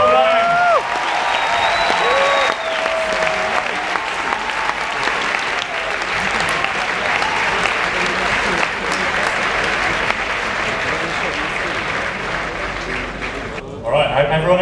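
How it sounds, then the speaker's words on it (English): Sustained applause from a large audience at the 2017 World Rubik's Cube Championship, loud and steady for the full stretch, with a voice briefly heard near the start and the clapping thinning out toward the end. "Let's have a huge round of applause for Felix Hendrick and Phil Ryan."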